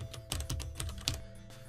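Keys on a computer keyboard clack in a quick, uneven run of taps, close and fairly crisp over a faint steady hum.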